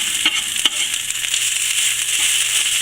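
Browned corned beef hash for a deer camp breakfast sizzles steadily in a pan, with faint taps and scrapes as it is broken up, close and continuous.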